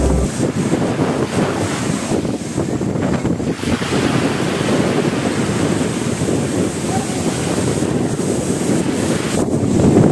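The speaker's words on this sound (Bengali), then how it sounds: "চলে তো এসেছি মন্দারমণি সমুদ্রের ধারে" Ocean surf rolling onto the beach at Mandarmani, a steady broadband roar of breaking waves mixed with heavy wind buffeting the microphone, continuous and close with no distinct pauses.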